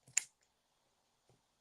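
Scissors snip around embroidered fabric: one close, crisp cut followed a second later by a faint softer snip, in a quiet room with no talking.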